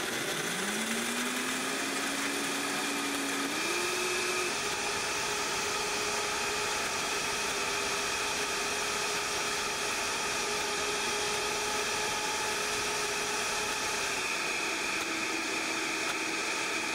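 A countertop blender whirring through vegan sour cream, a steady loud motor whine that rises in pitch over the first few seconds as it spins up, then holds constant and continuous with no talking.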